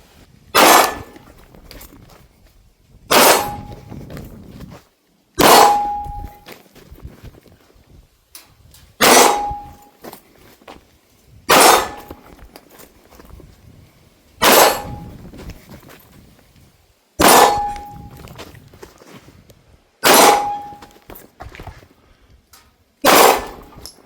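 Nine sharp gunshots from a one-handed rifle string, each ending in a ringing clang off a steel target, spaced about every two to three seconds at a steady rhythm, loud and close with brief decays between shots.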